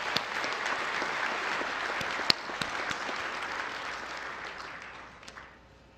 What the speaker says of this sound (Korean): 우리 박수 한번 다시 한번 부탁드리겠습니다.